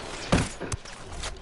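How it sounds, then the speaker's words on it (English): A sniper rifle fires a single sharp, loud shot in a video game gunfight, followed by a shorter, softer thump a moment later. No one speaks. "I'm gonna snipe him."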